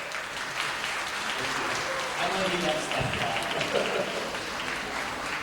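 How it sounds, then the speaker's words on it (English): Audience applause at a graduation ceremony, a steady wash of clapping filling the hall with someone speaking over it. "Big round of applause"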